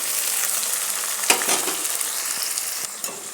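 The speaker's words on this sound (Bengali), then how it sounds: "দেখো এইগুলো দিয়েও কিন্তু খুব সুন্দরভাবে আমি কিন্তু সব মশলাগুলোই ভেজে নেব।" Ginger, garlic and tomato paste spice mixture sizzles in hot oil with a bright, hissing fry, and a few stirring scrapes break through. The sound is close and loud, with no voices.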